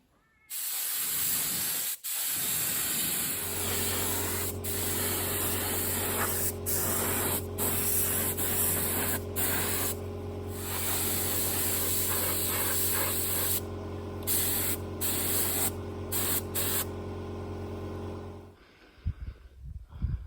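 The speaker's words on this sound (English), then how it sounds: "I will put some primer on that. Don't want it going rusty after all that work." Primer is sprayed from an aerosol can onto a bare 1964 Ford Falcon Futura air cleaner, a loud continuous hiss in short and long bursts with a steady electrical hum underneath, ending abruptly.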